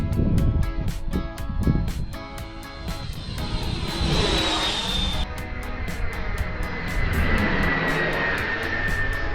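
A jet-powered model aircraft flies past at about half throttle, a loud roaring whine with a sweeping pitch shift as it passes close, over a steady engine rush.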